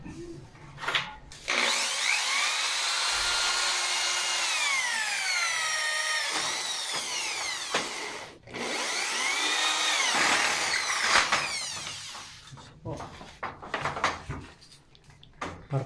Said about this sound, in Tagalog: Yan, binubutas na nila yung sa gilid ng pinto.